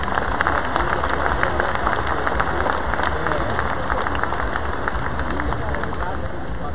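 Audience applause fills a large hall at a Rotary convention opening ceremony in Hamburg, a dense, steady wash of many hands clapping at moderate loudness throughout, with faint talk and room noise underneath.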